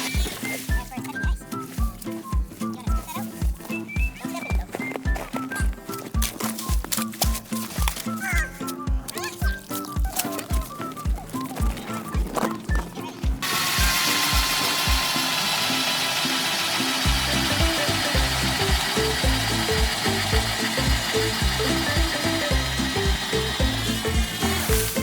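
An ice auger bores holes through frozen lake ice on a family ice-fishing outing: rhythmic grinding pulses at first, then a steady, louder whirring drone over background music.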